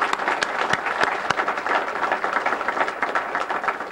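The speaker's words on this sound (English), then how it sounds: "deserve a round of applause" Steady, dense applause fills the room at an awards dinner, with many hands clapping together in an even roar that holds for several seconds.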